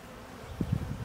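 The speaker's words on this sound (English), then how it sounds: "we have a suicidal bee that flew into my syrup" A honey bee trapped near a beehive syrup feeder gives off a short, faint, close buzz that rises in a few quick pulses over a quiet background.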